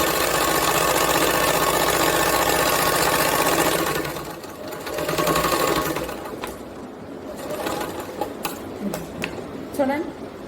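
A sewing machine stitches a blouse in a loud, steady mechanical whir for several seconds, then stops, followed by quieter intermittent machine sounds and handling noises.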